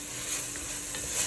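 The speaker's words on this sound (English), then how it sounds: "I am going to mix the tomato paste" Tomato paste is stirred and sizzling in a Dutch oven for braised short ribs, a close, continuous frying hiss with faint scraping from the stirring.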